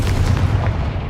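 A Confringo fire-blast spell goes off in Hogwarts Legacy, a short, loud booming burst with rumbling low impacts that fade within a second.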